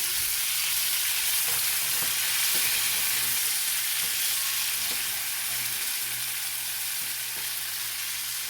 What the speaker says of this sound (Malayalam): നമ്മുടെ ഉള്ളിയും വെളുത്തുള്ളിയും കൂടെ വഴണ്ട് വരുന്നുണ്ട്